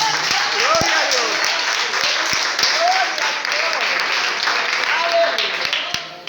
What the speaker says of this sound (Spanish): Denle un aplauso grande.